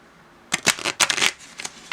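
A thin Bicycle Pinochle deck of playing cards is shuffled in a few quick riffling bursts, close and crisp, after a brief moment of quiet.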